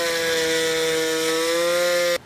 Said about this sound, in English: I'm going to be using an oscillating tool today to trim this plastic out.